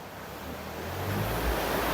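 Constant rushing roar of falling water, broad and steady, swelling slightly louder toward the end; no voices.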